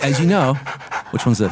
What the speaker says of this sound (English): That's a dog panting.